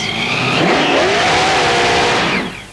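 At a wedding, a car performs a tyre burnout: a loud, close roar of revving engine mixed with hissing tyre squeal, sustained for about two seconds before tapering off.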